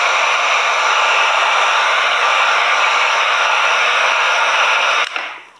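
A heat gun blows with a loud, steady hiss while reheating vinyl wrap on a Traxxas TRX4 Sport RC body, then clicks off and trails away near the end.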